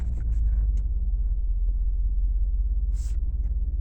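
A car engine hums with a low, steady rumble from inside the moving vehicle, with a few small clicks and a brief hiss.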